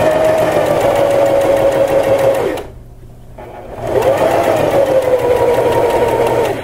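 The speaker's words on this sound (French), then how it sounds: "je vais continuer ma couture." Sewing machine stitching a seam in fabric, a steady close whirring run that stops briefly for a pivot and then resumes at the same even speed.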